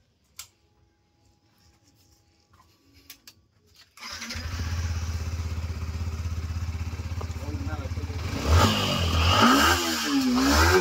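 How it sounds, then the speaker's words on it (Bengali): Yamaha R15 V4 motorcycle after an oil change: quiet handling noises, then the engine starts about four seconds in and idles steadily up close, with a rev rise near the end. "আমরা এখন গাড়িটা স্টার্ট করে দেখি কেমন সাউন্ড হয় ইঞ্জিনে।"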